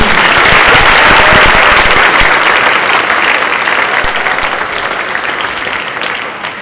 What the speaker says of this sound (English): Let's hear a nice round of applause, please.